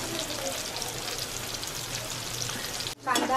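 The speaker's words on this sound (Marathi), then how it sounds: "कांदा ला तांबूस रंग येईपर्यंत हा शिजवायचा." Onion cooks in a pan until browned for a Kokani Koli-style dish, giving a soft, even frying sizzle that holds steady for about three seconds before a brief louder clatter at the end.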